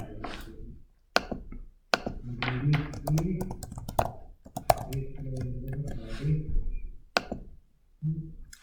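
Computer keyboard keys being typed to enter login details, a run of light clicks and taps in bursts, mixed in with a person talking over them.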